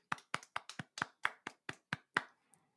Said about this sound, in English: let's give him a round of applause, whoever you are.